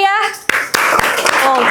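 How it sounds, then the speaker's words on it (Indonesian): Students in a school classroom break into brief applause of scattered claps and a few quick bursts, mixed with children's voices and chatter. "Tepuk tangannya boleh yang meriah."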